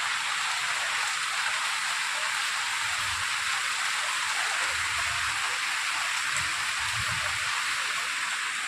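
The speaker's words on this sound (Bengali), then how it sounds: "মুষলধারে যাকে বলে বৃষ্টি হচ্ছে" Torrential rain pours continuously outdoors, a loud, even roar of downpour with low thuds of heavier drops now and then and no voices.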